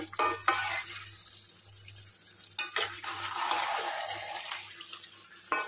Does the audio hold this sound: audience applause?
no